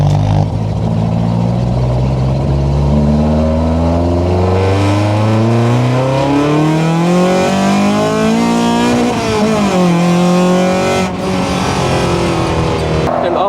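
A 200+ hp Opel Corsa B GSI with a swapped C20XE engine on individual throttle bodies with 50 mm racing throttles revs hard, its pitch climbing and falling in long sweeps, loud and close with a raspy intake howl.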